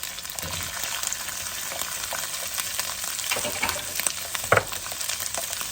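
Garlic and chili stir-fry in a hot wok for a seafood instant noodle dish, a steady close sizzle broken by scraping stirs and one sharp clatter of the spatula.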